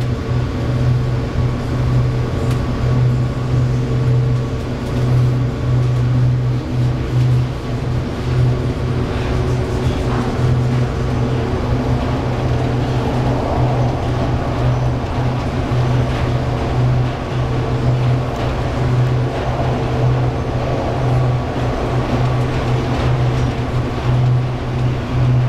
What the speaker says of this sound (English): The tram is departing the station.